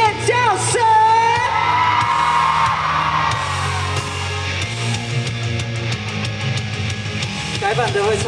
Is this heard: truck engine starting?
no